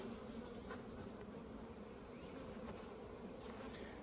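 Honey bees buzz steadily inside a beehive where queens are being banked, a close, continuous hum, no voices.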